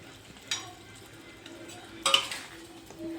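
Paneer pieces are stirred into palak gravy in a pan over low heat, quiet scraping with a couple of sharper utensil clinks against the pan under a faint simmer.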